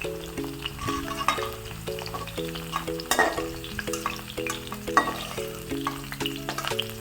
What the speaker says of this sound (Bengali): আলু, ফুলকপি, গাজর সব একসাথে ভেজে নেব।